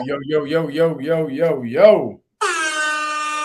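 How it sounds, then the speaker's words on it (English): A voice chatters in a wavering, sing-song way, then after a brief pause a loud, sustained air horn blares right up close. "got the air horn back today"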